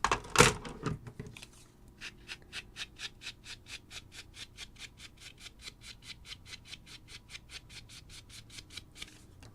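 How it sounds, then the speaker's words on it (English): Brown ink brushed onto a handmade paper card, a quiet, steady run of short rhythmic scratchy strokes after an initial louder rustle, close and soft with no talk. "I'm going to take a brown and just brush on the rest of the sand"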